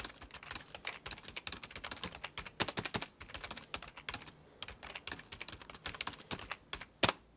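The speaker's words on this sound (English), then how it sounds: "So let's go to the traditional keyboard." Typing on a traditional office computer keyboard during a sound test: rapid, irregular clacking keystrokes heard close, with a few louder heavy key presses such as a spacebar-like thump near the end.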